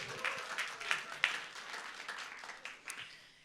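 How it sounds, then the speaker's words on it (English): Scattered applause from an audience at a startup fireside chat event, a light patter of claps with a few sharper hand claps, fairly faint and tapering off. "Applause to yourself, first of all."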